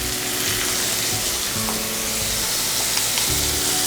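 Onion and garlic fry in a pan with a steady, close sizzle that runs throughout, with occasional stirring scrapes and no voices.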